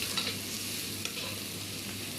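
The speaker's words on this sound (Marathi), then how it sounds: "ह्याला कंटिन्यू हलवावं लागतं" Gram flour (besan) mixture stirred in a pan, a steady close scraping and stirring with a soft sizzle underneath, continuous and alone with no talk.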